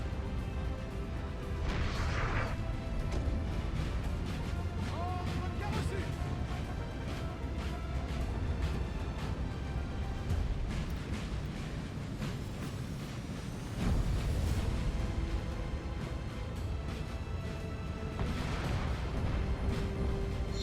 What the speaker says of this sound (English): Nice artillery strike there.